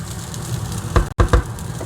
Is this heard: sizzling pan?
yes